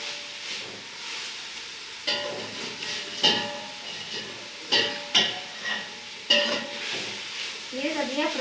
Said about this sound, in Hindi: ये सब्जियां फ्राई हो चुकी हैं।